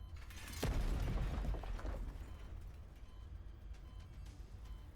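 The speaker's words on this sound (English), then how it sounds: "Okay, that's the boom." A deep thunderous explosion from the video game Girls Frontline 2 booms out with a sharp onset, then rumbles and decays over a couple of seconds into faint scattered debris sounds.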